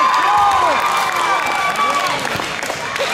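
Crowd at a basketball game making steady loud cheering and applause-like noise, dense and continuous, with squeaky tonal sweeps from sneakers or whistles mixed in and voices under the din.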